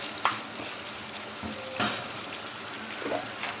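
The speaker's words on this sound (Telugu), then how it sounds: "1/2 స్పూన్ అల్లం వెల్లుల్లి పేస్ట్ వేసుకొని ఫ్రై చేసుకోవాలి పచ్చివాసన పోయేంత వరకు" Ginger garlic paste frying with potatoes in a pan for an aloo tomato curry, a steady low sizzle with a few soft scrapes and clinks of a spoon stirring, close and with no voices.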